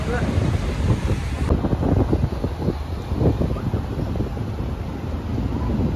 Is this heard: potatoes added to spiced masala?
no